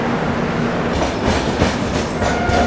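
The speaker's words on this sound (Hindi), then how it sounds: "देखिए उस वक्त सामने से ट्रेन भी क्रॉस हो रही है कोई" A passing train rumbles inside a tunnel on a ghat section at night, heard as a loud, continuous roar with rhythmic wheel clatter close by.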